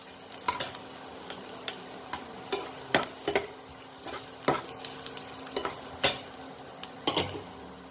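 Vegetables being lightly sautéed in a pan for Tamil vapadathovayal, a steady soft sizzle broken by sharp clinks and scrapes of a stirring spoon against the pan every second or so, close by with no talking.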